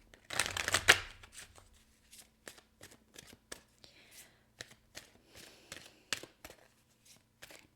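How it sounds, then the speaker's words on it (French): Tarot cards being shuffled by hand, a burst of riffling followed by a string of soft, separate card flicks and taps, close and quiet in a calm room. "J'ai l'impression d'avoir mélangé toutes mes cartes."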